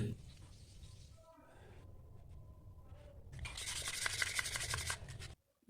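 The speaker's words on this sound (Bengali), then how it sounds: "ভালো করে ঘষে নিলাম" Pieces of raw coconut shell are rubbed smooth with a close, continuous scraping and abrasive swish that grows louder and harsher toward the end before cutting off abruptly.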